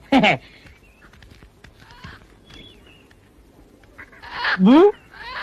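A hen brought in for sale clucks and squawks in two loud bursts, one at the start and one near the end, with quieter rustling and faint sounds between.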